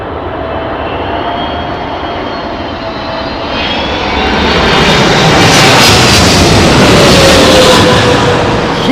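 An All Nippon Airways jet airliner at London Heathrow roars past in stormy conditions, its engines building from a distant whine to a loud, close, broadband rush with no talk.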